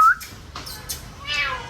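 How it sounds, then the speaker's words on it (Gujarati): A small kitten at a house mews a few short, high calls, close and fairly soft, with quiet household noise around and no talking. "બિલાડા છે"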